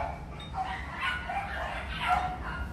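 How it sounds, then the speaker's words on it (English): Neighbouring dogs barking and yipping before feeding, several short excited barks at a moderate distance, repeated irregularly over a low background rumble. "I think next door's dogs are getting fed"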